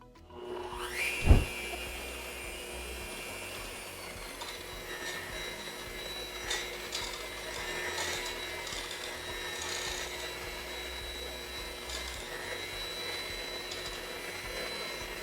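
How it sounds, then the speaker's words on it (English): Protein pancake batter being mixed in a bowl, a continuous whirring, rubbing drone after a brief knock at the start, steady and close with no talk. "let's mix it up."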